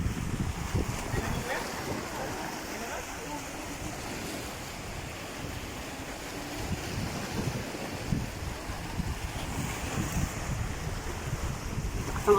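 Strong ocean waves surging against a rocky shore, a continuous heavy wash with gusting wind buffeting the microphone and rising swells throughout.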